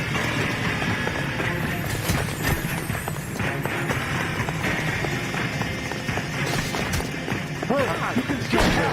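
Several punches in the L.A. Noire video game, one breaking a man's nose: heavy thuds and smacks amid a dense, chaotic mix of game music, effects and voices.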